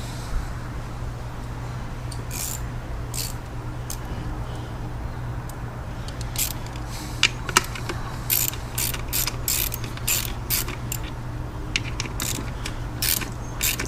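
A ratchet wrench works 10 mm bolts on an Audi S6 during a misfire repair, giving rapid clicking bursts that speed up and slow down over a low steady hum, close and without talk.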